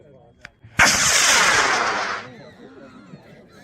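A one-pound model rocket on an H195 motor ignites at a launch, a sudden loud roaring whoosh lasting about a second and a half before fading, with faint voices of spectators in the background.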